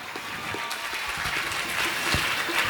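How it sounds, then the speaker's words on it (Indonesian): Applause from an audience at an Islamic boarding school graduation ceremony, a steady wash of clapping lasting a few seconds at moderate, fairly even loudness. "beri tepuk tangan untuk Mas Dimas."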